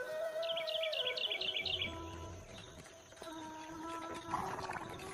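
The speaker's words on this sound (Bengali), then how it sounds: "কত পাখিদের সুমধুর ডাক কানে ভেসে আসছে।" Birds sing in open countryside of green rice paddies and trees, a quick run of repeated chirps up front, then quieter calls over a faint rural background.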